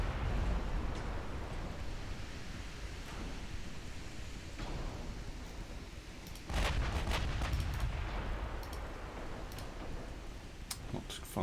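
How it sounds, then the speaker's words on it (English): Naval battle in the Ultimate Admiral Dreadnoughts video game as cruisers launch torpedoes, a rumbling wash of noise with sharp thuds and a burst of loud blasts midway, steady background roar throughout. "They fire more torpedoes at me."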